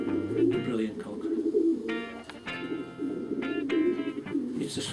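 Racing pigeons cooing inside a loft, a steady throaty murmur of several birds with brief chirps and wing clatter, under someone talking nearby.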